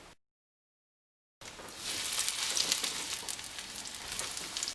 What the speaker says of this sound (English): Once the oil starts to be hot, I can drop my fish to fry.